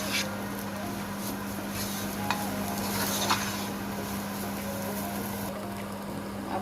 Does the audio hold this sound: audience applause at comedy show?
no